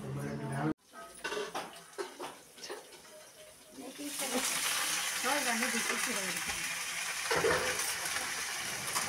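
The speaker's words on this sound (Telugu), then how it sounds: "మా అక్క శనగలు తాలింపు చేస్తున్నారు. కరివేపాకు చిల్లుతుందని చెప్పేసి కొంచెం భయపడుతున్నారు." Chickpeas are tempered with curry leaves in hot oil. After a few utensil clinks and voices, a loud, steady sizzle bursts in and continues to the end under faint talk.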